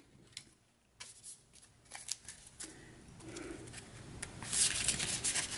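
A deck of cards is shuffled by hand for a board game, with scattered soft riffles and taps building into a louder, crisp burst of shuffling near the end, and no talking.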